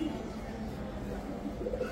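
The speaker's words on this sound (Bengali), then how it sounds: "হ্যারিকেন ব্লাড লাইনের একটা নর কবুতর" A male pigeon of the Harricane bloodline coos softly and low, a faint, muffled murmur over steady background hum.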